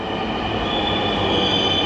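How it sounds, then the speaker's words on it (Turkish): Metro train in Bangladesh running steadily, a loud continuous rumble with wheel squeal and rail noise throughout, close by and with no talking. "Sadece bir tane metro var koca ülkede. O da bu."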